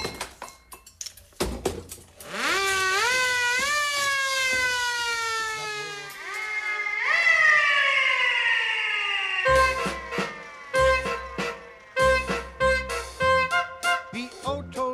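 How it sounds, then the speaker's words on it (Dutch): A siren, demonstrated among noisemaking instruments such as horns and cymbals in a studio novelty sound-effects act, winds up into loud rising and falling wails for several seconds. Choppy percussive sounds follow. "Een sirene horen."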